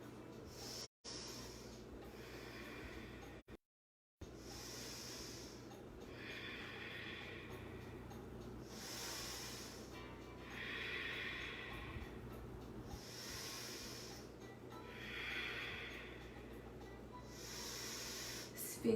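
Slow, deep breaths during a yoga pose, drawn in and released in long, even rounds every few seconds, soft hissing airflow over steady room noise.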